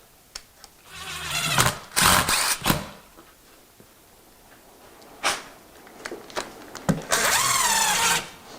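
A power drill fitted with a 90-degree right-angle bit attachment drives a screw in short whirring bursts, several brief spins separated by pauses, fairly close and clear.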